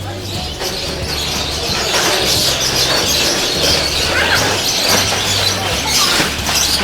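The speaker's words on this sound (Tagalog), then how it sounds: "maingay mga ibon" Many birds chatter and chirp together at a crowded bird market in Cartimar, a dense, noisy mix of calls over a steady low hum of background activity, with voices talking now and then.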